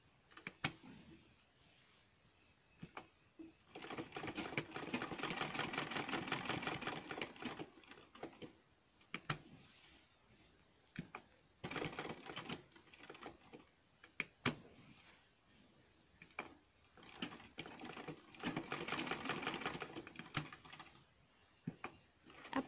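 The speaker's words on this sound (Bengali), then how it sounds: "এখন আমরা এটার উপরে এমনি সেলাই করে করে এটাকে মজবুত করে দেব।" A sewing machine stitches over a homemade doormat made from old clothes, running in several short, quiet bursts of rapid mechanical whirring separated by pauses and faint handling clicks.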